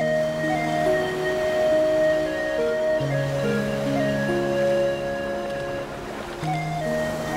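Sea surf on the long beach at Cox's Bazar on the Bay of Bengal where fishermen work, a steady broad wash of waves under several sustained engine-like hums and drones, with no talk.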